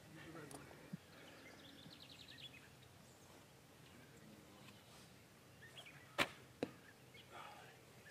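An arrow shot from a bow during a 3D archery course at a hunting challenge makes a faint snap followed by sharp impact thuds against a target, set in a quiet outdoor scene with distant birds.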